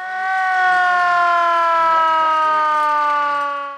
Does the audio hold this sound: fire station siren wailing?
yes